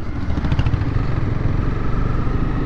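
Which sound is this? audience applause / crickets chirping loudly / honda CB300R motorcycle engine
honda CB300R motorcycle engine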